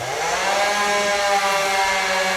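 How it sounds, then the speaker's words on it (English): A chainsaw works through a fallen, leaning tree blocking a woodland road. Its engine whines loud and close and holds a steady, high, buzzing pitch under load, with no voices. "you can get your chainsaw hung up awful easy"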